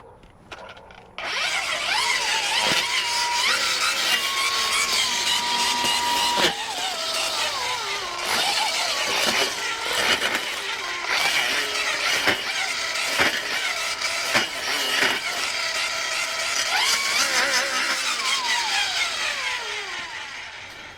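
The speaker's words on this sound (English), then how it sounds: "So we've got one more little tree we're going to try to cut with this little brush cutter" Dewalt 60V Flexvolt cordless brush cutter spinning up and cutting a small tree, a loud sustained high whine close by with pitch dips and bogs as the blade bites into the wood, then winding down at the end.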